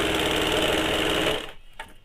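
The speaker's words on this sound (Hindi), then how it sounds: "इस प्रकार से पूरे में हम लोग सिलाई चला लेंगे" A sewing machine runs steadily as it stitches a kaftan nightie, a close continuous motor whir that stops abruptly after about one and a half seconds, followed by a faint click.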